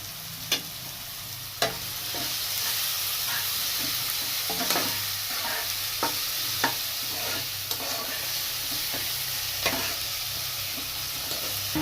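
Spice paste with a little salt sizzles steadily in a pan for duck egg curry, with sharp scraping stirs at irregular intervals over the constant frying hiss.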